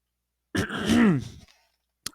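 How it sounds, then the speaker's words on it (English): A single close throat clearing, a gravelly rasp that rises and falls over about a second, followed by a brief faint click, in otherwise silence. "I apologize if like I have to clear my throat a few times while I'm talking"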